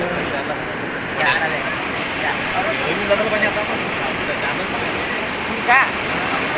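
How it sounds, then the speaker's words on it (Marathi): Floodwater rushes in a continuous broad roar during a severe flood, steady and close throughout, with a few faint voices briefly heard over it. "आता आलं पाणी"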